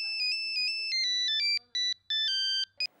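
A mobile phone rings for an incoming call, playing a bright, electronic, melodic tune of quick repeated notes with short gaps, loud and close, ending just as a voice begins.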